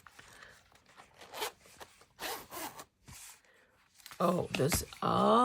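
A zipper runs in short rasping pulls along a thrifted leather tie case that zips around only two sides, with handling rubs and pauses between pulls. Talk is heard alongside the zipper.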